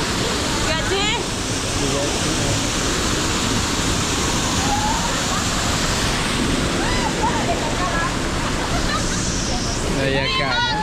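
Rushing water at Mok Fa waterfall, a steady broadband roar of falling and splashing water throughout, with voices and brief chatter rising over it near the start and end.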